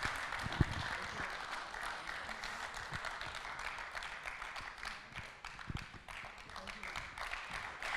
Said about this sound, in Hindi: बहुत तालियों के साथ स्वागत कीजिए इनका।